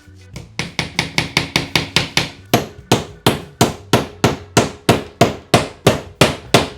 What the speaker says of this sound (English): Good thing I packed my hammer